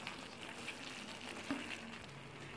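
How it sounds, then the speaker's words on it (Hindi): Chicken stir-frying over high heat in a pan gives a steady, faint sizzle, with a few soft stirring scrapes partway through. "अब हीट हमने बढ़ा दी है, इसे हम मिक्स करते रहेंगे।"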